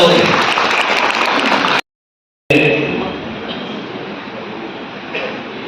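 Loud applause from an audience at a teachers' workshop in an auditorium fills the space, breaks off briefly, then resumes and slowly fades to a lighter patter.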